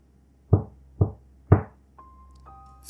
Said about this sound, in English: Someone or something had just knocked 3 times on our